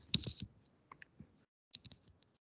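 A few quiet, sparse clicks of keys typing a terminal command on a computer keyboard, in small clusters separated by pauses, close and soft in a quiet room.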